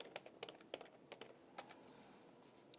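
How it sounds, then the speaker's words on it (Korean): Quiet, rapid clicking of a computer keyboard as someone types an entry into tax accounting software, the keystrokes coming in short irregular bursts, close and soft, with no talking. "그래서 그냥 타이핑하지 뭐. 직접 입력."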